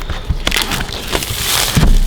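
Thin plastic wrap is peeled off a new Apple keyboard, making close crinkly rustles and sharp crackles in irregular bursts throughout.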